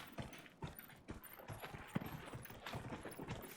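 Horse hooves clip-clop in Dragon Age: Inquisition, a run of close, steady thuds under a quiet game background with no talk.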